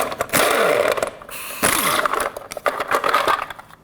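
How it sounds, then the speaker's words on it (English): A 22mm socket loosens the nuts holding a wheel center cap on a Chevy Express 3500 van, giving bursts of ratcheting and metallic clatter separated by short gaps. "With a 22mm socket, let's remove all these caps that hold on the center cap for your lug nuts."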